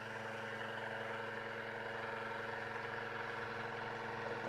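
An electric motor on a test rig, its load just removed, runs up toward about 7,000 RPM with a steady, close harmonic whine and hum that swells slightly at the very end.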